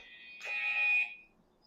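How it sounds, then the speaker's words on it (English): A brief electronic buzzer sound effect sounds once, a bright steady tone swelling for about a second before fading, clean and alone. "Yes, you heard the buzzer."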